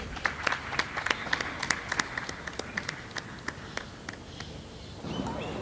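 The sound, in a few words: audience round of applause welcoming a speaker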